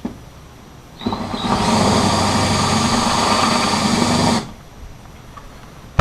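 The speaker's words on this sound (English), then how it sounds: "And we're done drilling." Power drill boring holes through thick fiberglass on a Skeeter boat for an electronics mount, a loud steady whine lasting about three seconds before cutting off, with quieter background before and after.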